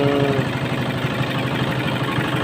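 A water-cooled diesel boat engine idles close by, a steady, dense low chugging that carries on unchanged throughout with no talking.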